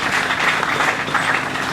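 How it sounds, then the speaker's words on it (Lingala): A church congregation at a funeral service applauds together, a dense, even wash of many hands clapping that fills the space steadily and runs without a break, with no speech on top. "Acclamons pour la gloire de l'Éternel notre Dieu"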